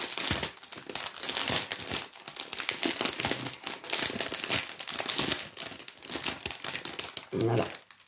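Plastic zip bag of diamond painting drills being opened, with steady crinkling and rustling of the plastic throughout, close and fairly loud, with a voice speaking over it now and then.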